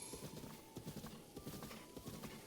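Horse hooves pound in a steady galloping clip-clop rhythm during open-world riding in Breath of the Wild, fairly loud and continuous with no voices over them.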